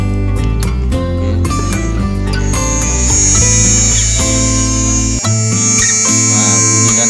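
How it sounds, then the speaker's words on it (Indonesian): A small handheld electric engraving tool for carving spoons, plates and glasses switches on and runs with a steady high whine, loud and close throughout. "Ini tinggal ada tombolnya nih, on off nya ini, tinggal pencet aja bunyi"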